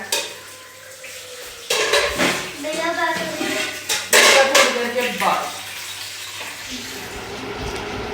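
Pots and utensils clatter and stir while a tadka is prepared in pans for Eid vermicelli, a steady sizzle under a voice talking throughout.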